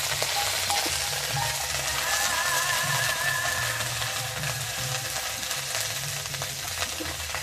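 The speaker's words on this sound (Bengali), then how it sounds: "কড়ার মধ্যে সরষের তেল দিয়ে দেবো। প্রথমে দেবো আদা" Ginger frying in hot mustard oil in a wok gives a dense, steady sizzle throughout, with a faint tonal whine drifting in the background.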